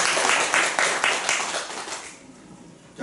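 A church congregation claps in encouragement during a Sunday worship service, a burst of applause that gradually fades to near silence within about two seconds.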